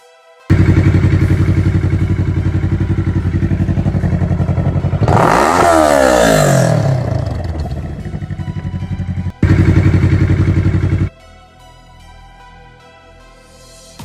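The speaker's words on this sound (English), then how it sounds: "He even goes to show the stolen bike in a car park where he's revving it" A stolen motorbike revs loudly in a car park, with a sustained engine drone, a sharp rising rev burst in the middle, then a cut, a brief second roar and an idling tail.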